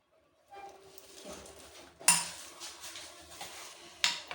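A spoon mixes raan marinade with soy sauce and ketchup in a bowl, giving soft scraping and clinking close by, with sharper knocks against the dish at intervals and no talk.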